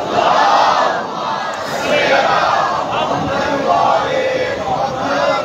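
Massed voices at a religious gathering call out salawat in unison, a loud, swelling chant that rises and falls in waves with no pause.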